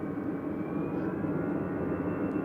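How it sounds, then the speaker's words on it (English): Jet airliner with whistling Rolls-Royce RB211 engines at Manchester Airport, a steady loud roar with a high whine running throughout, no talk. "Those whistling engines. Oh yeah, I mean, I just love an RB211."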